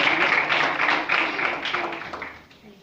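A church congregation applauds in a dense burst of clapping that holds steady, then fades away over a few seconds.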